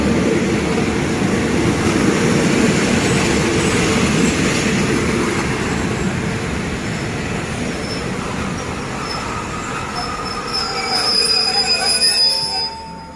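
Hitachi 4522 diesel locomotive pulling a passenger train into Ratchaburi station in Thailand, a steady loud rumble of wheels and engine with rising metallic wheel squeal near the end, no talk.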